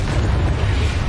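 A loud, rumbling blast from a fiery spell explosion in the video game Hogwarts Legacy, dense and booming throughout a single short burst.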